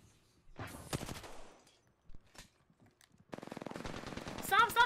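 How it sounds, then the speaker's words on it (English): Automatic gunfire in the battle-royale video game Apex Legends, rapid bursts of shots loud and close, with players talking and shouting between and over the volleys. "Stop shooting him!"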